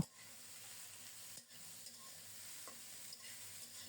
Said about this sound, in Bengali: তাই আজ আবারও আলু ভাজা করছি